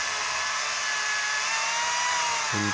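A battery-powered electric chainsaw cuts wood, likely small branches, with a steady, loud, high-pitched whine that holds for nearly three seconds, then a brief low tone enters at the very end.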